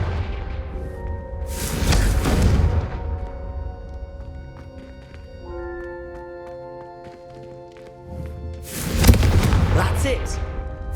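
Two heavy explosive blasts from the fiery Confringo spell in the Hogwarts Legacy video game, one early and one near the end, each a deep booming burst with sustained musical tones ringing between them.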